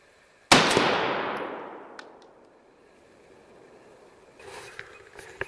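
A single loud rifle shot from a 16-inch barrel direct impingement rifle firing 55 grain M193 5.56 ammunition at a 3/8-inch steel plate rings out sharply and decays over about a second, followed by faint rustling and small clicks.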